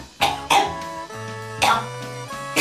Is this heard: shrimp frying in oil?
no